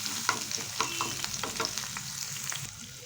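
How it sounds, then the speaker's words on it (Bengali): Onion and dried chilli fry in a pan, a soft sizzle with repeated spatula scrapes and stirring clicks, fairly faint and free of talk. "কেটে রাখা পেঁয়াজটা পেঁয়াজটা দিয়ে একটু ভেজে হবে বেশি ভাজার দরকার পড়বে না"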